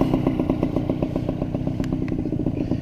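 A Yamaha Y100 Sport motorcycle engine labors up Berjaya Hill in second gear, a loud, steady two-stroke buzz with rapid regular pulsing and faint clatter throughout, close and continuous with no talk.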